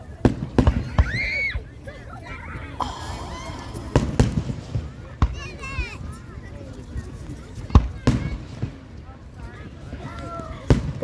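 Fireworks burst repeatedly outdoors, sharp booms and crackles that come in irregular bursts, some of them whistling, with excited voices and crowd chatter throughout.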